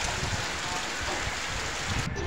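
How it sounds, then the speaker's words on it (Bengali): Steady rain falls during an afternoon downpour, a continuous soft hiss of drops with low patter underneath, fairly faint and even throughout. "বৃষ্টি হচ্ছে দেখো।"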